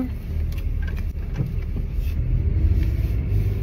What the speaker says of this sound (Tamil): ஓகே வண்டி எடுத்தாச்சு கிளம்பலாம்